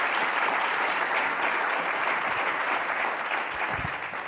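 Sustained applause from a symposium audience clapping for a panel after an energy economy discussion, dense and even for several seconds, then tapering slightly at the end.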